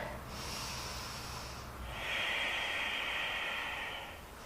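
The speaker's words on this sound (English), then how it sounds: "we're going to breathe. So 5 big breaths here." Deep yoga breaths during a held pose, with a long airy breath followed by a stronger, hissing, nasal exhale. Both are close and clear, with no talking over them.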